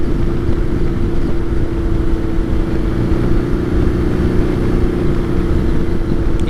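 A 2020 BMW R nineT Scrambler motorcycle is ridden at steady speed, its engine drone loud and close with wind rush, holding a constant note throughout with no voices.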